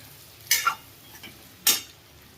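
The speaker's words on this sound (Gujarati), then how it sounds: "આપણે મિક્સ કરી દે હું હલાવી નાખશું શાકને" Two quick scraping stirs in a pan of green bean and potato curry with crushed peanuts, each a short bright rasp of a utensil against metal, separated by a brief quiet pause.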